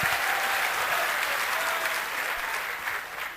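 Steady applause from an audience at a spiritual talk in Indore, a dense wash of clapping that stays loud and even throughout, easing only slightly near the end.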